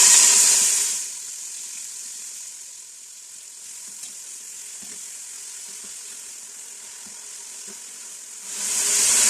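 Sliced medium onions sizzle and fry steadily in hot oil for Hyderabadi beef boti karahi, a continuous close hiss that swells louder at the start and end, with faint stirring clicks and no talk.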